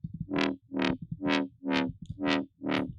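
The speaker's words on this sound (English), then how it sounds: "it's just a sine wave with some level automation layered with a harmonic series wavetable" A synth bass made in Vital layers a sine wave with a harmonic-series wavetable, filtering and distortion for deep dub. Six evenly spaced, loud, gritty notes each swell and sweep upward in brightness, with no voices.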